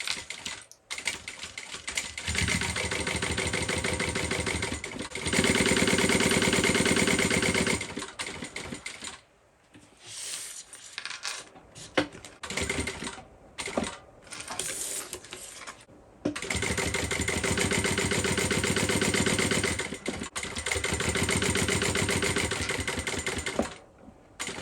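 A sewing machine stitches a bag with a joining stitch length of 3.5, running in two long, steady bursts with a pause between them filled with soft handling noises.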